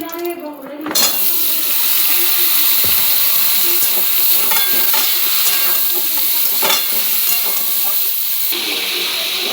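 Loud continuous sizzling and hiss of cucumber frying in oil in a pan just used for prawns, with scraping stirs and a bright clatter near the start, close and steady throughout.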